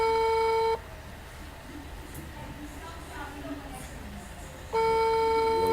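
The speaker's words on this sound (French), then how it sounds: "Voilà, ça sonne." A telephone ringback tone sounds during a call: a steady beeping tone at the start, a quiet pause of about four seconds, then the tone returns, heard clearly with faint background noise.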